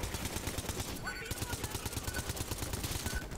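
Submachine gun fire in a video game, a continuous rapid stream of loud shots running throughout, with a brief sweeping game effect partway in; a voice talks over it.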